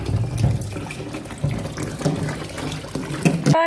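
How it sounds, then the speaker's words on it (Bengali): Lentils are washed by hand in a bowl of water, with the water changed again and again. Close sloshing, splashing and trickling come in uneven bursts, with no talking. "আর বারবার এই জলটা এইভাবে ধুচ্ছি, আমি ফেলে ফেলে দিচ্ছি।"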